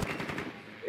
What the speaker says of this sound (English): I had bullets coming my way